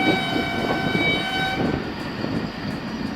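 A Karachi Circular Railway train passes close by, a loud continuous rumble of wagons on the rails with a sustained horn-like tone fading partway through.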